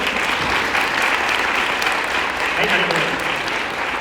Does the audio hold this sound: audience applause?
yes